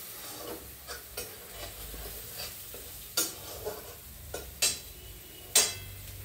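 Garlic sautés quietly in a pan for an urad dal soup, a faint soft sizzle punctuated by a series of sharper spoon clicks and scrapes against the metal.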